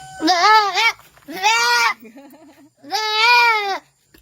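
Goat held still by a person, bleating three loud, close, wavering cries with short pauses between, and a faint voice murmuring in the gaps.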